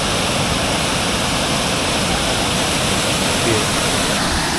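Pari Falls, a three-tiered waterfall in Bulacan, roars with a loud, steady broadband rush of falling water that fills the scene without a break.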